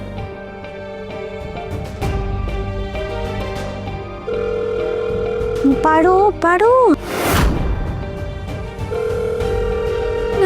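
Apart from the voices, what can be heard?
phone call ringing, not picked up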